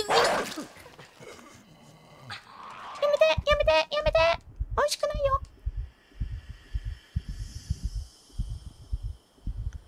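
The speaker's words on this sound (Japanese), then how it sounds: "犬の声が聞こえたらもう走り抜けるしかないんだな" A dog in the video game INSIDE lets out a short burst of loud barks, with a couple more yelps soon after over soft rhythmic thumps and quiet ambience.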